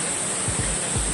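Coban Rondo waterfall in Pujon, Malang, roars as a steady, broad wash of falling water, with a few low thumps underneath.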